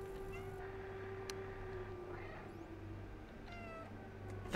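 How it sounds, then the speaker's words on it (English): A cat meows in a video game cutscene, with a couple of short, faint meows over a quiet background hum. "That's me meowing in the cutscene."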